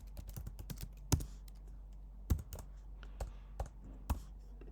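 Typing on a computer keyboard: a handful of separate key clicks and a few sharper presses, close and fairly quiet over a low steady hum, with no speech.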